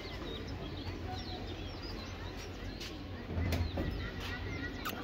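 Pigeons at a pigeon seller's loft flapping their wings and calling, with quick wing bursts and scattered bird sounds over a low background hum, near and moderately loud.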